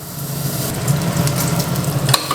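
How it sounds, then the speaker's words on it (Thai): Something is being fried in oil to release its fat for baked shrimp with glass noodles, making a loud, continuous close sizzle with slight stirring bursts throughout. "เอาลงไปเจียวให้มันเกิดน้ำมันนะครับ เราจะใช้น้ำมันมันจะได้ออกมา"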